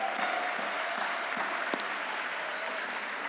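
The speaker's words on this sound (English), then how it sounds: "can we just have a round of applause for Catabaloo for tonight's dinner?" A gala dinner audience breaks into steady applause, a dense wash of clapping that stays even and fairly loud throughout, with no talk over it.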